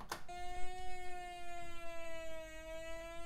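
A Commodore 64 sound demo plays an electronic siren: a clean synthesized tone holding a steady pitch with a faint slow slide, sustained for about three seconds after a brief click at the start.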